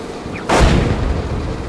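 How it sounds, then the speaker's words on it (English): Incoming enemy artillery fire in the tank game GHPC: one heavy boom with a brief whistle just before, followed by a long, loud rumbling roar that carries on to the end. "Okay, incoming enemy artillery."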